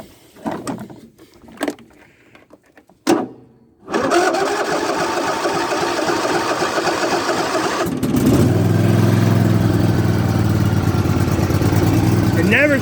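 A Yard Machines lawn tractor engine cranks and catches after a few short bursts, then settles into a loud, steady running drone that grows slightly heavier toward the end.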